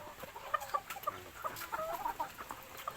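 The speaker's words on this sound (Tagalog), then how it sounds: "Yan ang mga pato, manok, naman" Several chickens cluck softly and repeatedly nearby, a busy overlapping chatter of short clucks against a quiet outdoor background.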